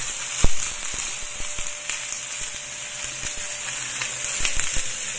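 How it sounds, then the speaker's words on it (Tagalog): Pork frying in a pan for adobo, a continuous bright sizzle with scattered sharp pops and crackles from the browning meat, close and steady. "So, i-fry lang din natin yan hanggang sa maging brown ng kaunti."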